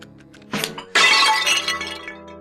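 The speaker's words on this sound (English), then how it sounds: "Didn't you see how he smashed that mug?" A mug smashes with a sharp crash and a burst of shattering ceramic fragments that ring and scatter briefly, loud and close, preceded by a short knock.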